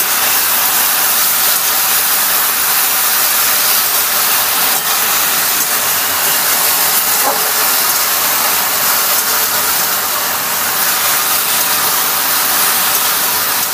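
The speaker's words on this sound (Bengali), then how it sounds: "আমি সাদা তেলে ভাজছি, আপনারা চাইলে সরষের তেলেও ভাজতে পারেন।" Mushrooms frying in white vegetable oil, a steady dense sizzle and hiss that runs continuously at close range with no talking.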